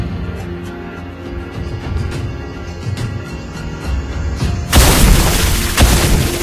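A heavy booming explosion sounds as a turret is destroyed in the Mobile Legends mobile game, layered over continuous battle effects and music, with a loud broadband burst near the end that sustains to the close.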